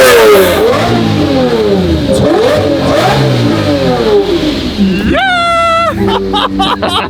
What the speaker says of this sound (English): it's the sound of the engine, even with the E-gear, that everybody wants.